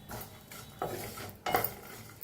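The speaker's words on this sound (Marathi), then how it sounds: "ह्याच्यातच टाकूया लसूण बी, ह्याच्यातच टाकूया हिरव्या मिरच्या भाजून घ्यायच्या।" Garlic and green chillies roast in a pan for an eggplant dish. Several clanking scrapes of a utensil against the metal pan sound close by, with a quiet sizzle in between.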